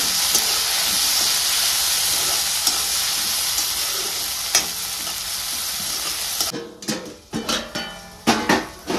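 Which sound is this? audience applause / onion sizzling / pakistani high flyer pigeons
onion sizzling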